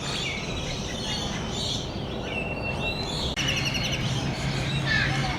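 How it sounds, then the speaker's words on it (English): Gray-winged trumpeters in a zoo enclosure give scattered chirping calls and brief whistled notes over constant noisy outdoor background sound, moderately close. "These are gray-winged trumpeters."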